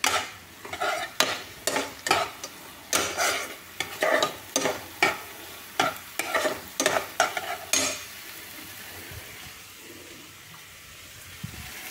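Dalia (broken wheat) stirred in a pan over a raised gas flame: a run of rhythmic scraping strokes, close and fairly loud, over a soft sizzle, then settling into quieter frying for the last few seconds.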